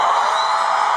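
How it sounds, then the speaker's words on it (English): Concert crowd at a Toledo homecoming show bursting into a sustained cheer on cue, a dense, loud wall of voices and whoops holding steady throughout. "when I count to three, I want to cheer"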